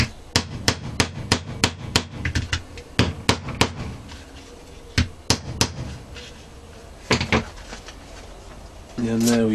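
A nylon hammer drives rivets into a leather sheath: about a dozen sharp, close taps, some in quick pairs and clusters, with pauses between them and a brief different sound at the very end.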